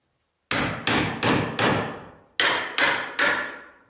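A hammer strikes a nail seven times in quick, evenly spaced blows, each a loud, sharp metallic crack that rings off briefly, with a short pause between the first four strikes and the last three.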